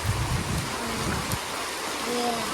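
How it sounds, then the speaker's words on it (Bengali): Rain begins falling on a rural village home with a polythene-covered roof, a steady dense hiss throughout, with faint low murmuring early on. "তো বৃষ্টি শুরু হয়েছে"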